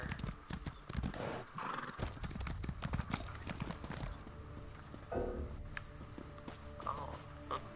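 In the video game Elder Scrolls Online, a horse's hooves clip-clop on stone steps and it whinnies, a faint mix of hoofbeats and neighs with no talk.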